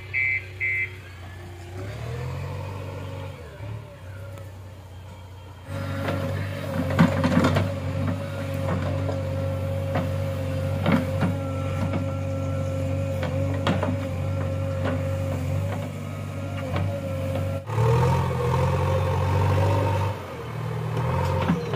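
JCB backhoe loader levelling a road for a house build, its diesel engine idling quietly at first, then catching and settling into a steady loud chugging drone with knocks and clanks over it.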